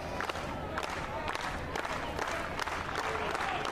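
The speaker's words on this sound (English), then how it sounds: "Kentucky fans start the slow clap." Kentucky baseball fans at an NCAA tournament regional final doing a slow clap in the stands, rhythmic crowd claps spaced roughly half a second apart over a wash of stadium crowd noise.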